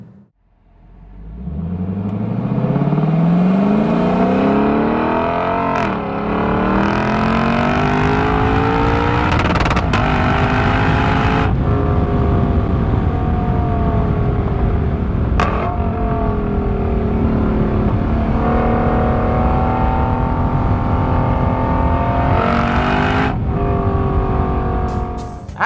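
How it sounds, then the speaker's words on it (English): 2018 Lexus LC500 engine driving, a loud close engine note that climbs through repeated revving pulls with brief shifts between them, sustained throughout with no talk. "the 2018 Lexus LC500"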